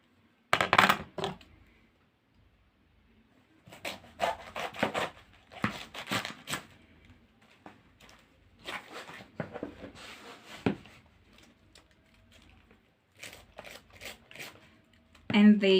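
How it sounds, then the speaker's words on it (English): A kitchen knife chops cabbage for Jamaican fried cabbage, making clusters of sharp, close tapping strokes on a cutting board separated by quiet pauses, with a louder knock at the start and another at the end. "So now let's chop our cabbage."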